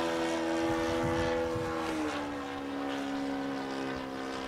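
A small RC model airplane flies overhead on a windy day at a flying field, its propeller engine droning steadily throughout and shifting pitch partway as it passes, with no talk over it.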